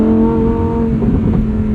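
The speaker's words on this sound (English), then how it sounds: "It will auto upshift at redline in sport mode." A 2023 Lamborghini Huracan Tecnica in sport mode revs hard toward redline, its engine a loud, close, steady roar that shifts in pitch partway through as the gearbox upshifts automatically.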